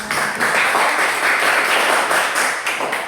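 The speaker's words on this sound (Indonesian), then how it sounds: "Berikan aplaus dulu buat" A classroom of junior high students applauds after a class presentation, steady dense clapping from many hands nearby, sustained for a few seconds without talk.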